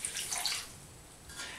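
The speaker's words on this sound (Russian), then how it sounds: "Залью водой" Water is poured over whole figs in a pot while making fig jam: a brief splashing pour at the start that fades out, then a softer trickle returns near the end, with no talking.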